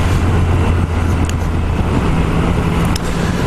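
Yamaha MT-09 SP motorcycle engine while riding, a loud steady drone with wind rush close to the microphone and no talking.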